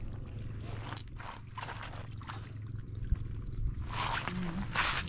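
Fresh spring water flows and trickles steadily outdoors, a continuous pouring wash, close and moderate, with faint background rustle.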